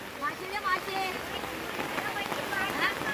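Steady rain patters across the whole clip at a Sunday market in Chiplun, Konkan, with voices talking faintly over the hiss of falling drops.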